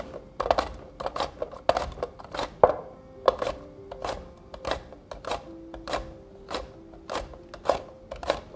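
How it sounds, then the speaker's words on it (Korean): A vegetable is sliced thin on a mandoline grater with a steady rhythm of sharp, crisp strokes, about a dozen close swipes in a row, with no talk. "우선 강판을 대서 얇은 것에 세팅을 했습니다. 자, 대고 이제 슬라이스를 하는 거죠."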